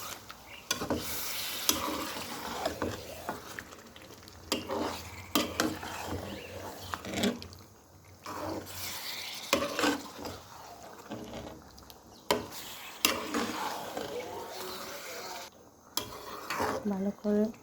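A spoon stirs beef curry in a metal pot with a simmering sizzle underneath, repeated scraping knocks against the pot sides in uneven bursts, close and fairly loud.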